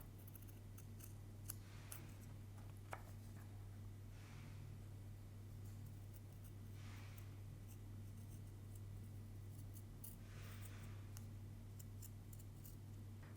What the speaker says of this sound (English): if you end up with a little notch like that, just trim it off